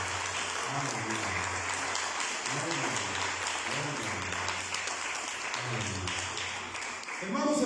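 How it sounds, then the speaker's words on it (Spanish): A church congregation applauds during a Spanish-language sermon, a sustained, even roar of clapping with voices calling out over it throughout. "Den un aplauso al Señor"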